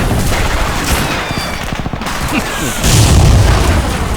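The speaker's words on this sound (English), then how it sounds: "let's blow this fence! Fire in the hole! Fire in the hole!" Explosion blowing up a fence during a World War II beach assault in Medal of Honor: Frontline, a heavy boom followed by a loud rumbling blast amid continuous gunfire and battle noise.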